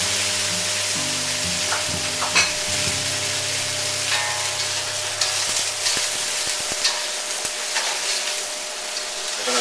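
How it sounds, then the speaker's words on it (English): Garlic and ginger mixture sizzling in hot oil in a wok for a ribeye steak stir-fry, a steady close frying crackle with stirring scrapes and clinks, loud and continuous with no talking. "I just tossed the garlic and ginger mixture in with the oil."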